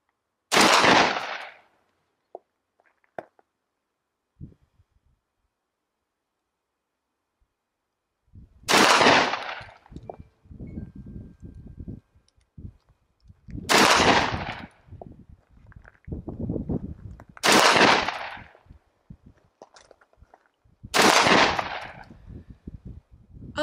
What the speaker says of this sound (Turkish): G12'ye taktığımız Vector Optics'in Red Dot'unu ilk etapta bir 30 metrede sıfırlama yapmaya çalışacağız.